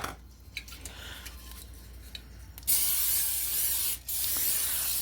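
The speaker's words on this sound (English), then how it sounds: "to our greasy chicken pan, we are going to go ahead and spray a little bit more oil in here" Cooking oil is sprayed into a greasy chicken pan, a loud, close hiss that lasts about a second and a half, breaks off briefly, then returns, after a few quieter light clinks of utensils.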